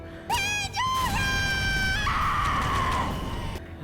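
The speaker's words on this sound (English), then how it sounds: "that Pandora scream sounded genuinely pained" Pandora, a character in the video game Persona 5 Strikers, lets out a long pained scream, sustained and loud, wavering then breaking into a rough strained cry before fading, set against a steady backdrop of game sound.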